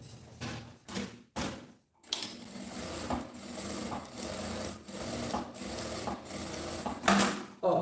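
A sewing machine stitches a gym bag's fabric along a marked line, starting with a few short sharp knocks before settling into a continuous close hum with a slight repeating pulse.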